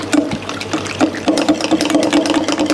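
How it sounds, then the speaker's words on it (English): Water poured into a thick batter of flour, chaat masala, turmeric, salt and carom seeds for crispy battered prawns, with wet stirring and slapping in a steady close rhythm. "Mix dry ingredients and make a thick batter by adding water."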